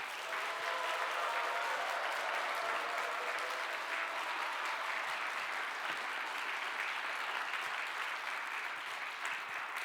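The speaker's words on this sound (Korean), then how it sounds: "우리 배준현 목사님 앞으로 모실 때 이런 큰 박수로 우리 맞이하겠습니다" A church congregation at a revival service in Daegu bursts into loud, sustained applause to welcome a visiting pastor, a dense and steady roar of clapping from many hands that continues unbroken for about ten seconds.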